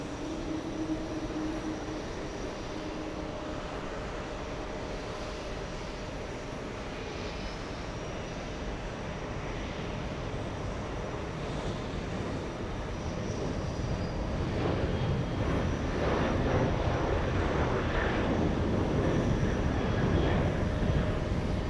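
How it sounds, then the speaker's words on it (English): A Qatar Airways Boeing 777 passes at a distance with a steady broadband jet roar that builds gradually louder toward the end, with no talk over it. "Qatar 777 flying Doha City"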